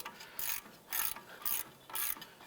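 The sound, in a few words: ratchet removing brake caliper bracket bolt on Cadillac DTS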